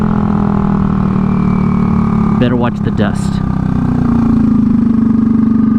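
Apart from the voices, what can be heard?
Honda Ruckus scooter engine idling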